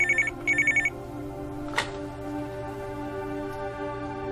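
A telephone rings in short repeated electronic bursts at the start, then a click and a steady low hum follow, fairly loud and near with no voices.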